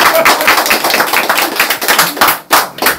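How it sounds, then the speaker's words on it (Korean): An audience at a political talk claps together in dense, loud applause that fills the whole few seconds without letting up. "이럴 때 박수 한번 쳐주세요."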